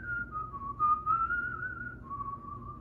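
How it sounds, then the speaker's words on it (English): A person whistles a short wavering tune, close and fairly quiet, with the pitch sliding up and down before settling, heard alone without speech. "I will be whistling as well"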